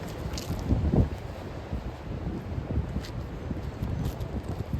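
Wind buffets a microphone outdoors on a disc golf course, a steady low rumble with gusty surges, loudest early on, and no voices.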